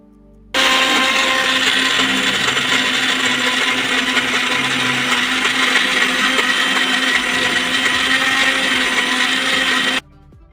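An electric mixer grinder whirs loudly and continuously for about nine seconds, grinding soaked moong dal with four green chillies and no added water. It starts and stops abruptly, with no talking over it.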